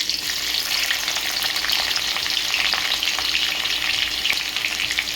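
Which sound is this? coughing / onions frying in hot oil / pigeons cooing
onions frying in hot oil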